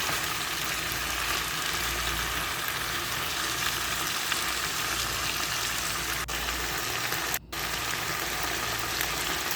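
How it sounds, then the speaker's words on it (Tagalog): Sliced beef steak and onions stir-fry for pepper steak, hissing in a hot pan with a splash of sesame oil: a steady, close sizzle with faint stirring scrapes and one brief dip near the end. "Stir fry for about 2 minutes."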